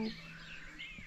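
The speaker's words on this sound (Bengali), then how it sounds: "বিভিন্ন রকম পাখির ডাক শোনা যাচ্ছে" Several birds chirp and call at moderate distance over a steady outdoor hum, with overlapping tweets throughout.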